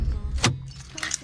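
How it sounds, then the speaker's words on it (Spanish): A bunch of car keys jangles briefly as the key is pulled out of a parked car's ignition, a quick close metallic rattle followed by a faint second clink. "voy a quitar ya la llave del coche"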